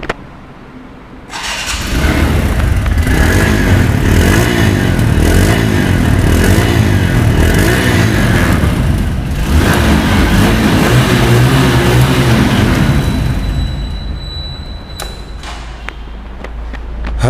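A second-hand TVS Stryker 125 cc motorcycle starts up and runs loud and close, holding a steady rumbling idle with light throttle pulses before the engine note eases down near the end.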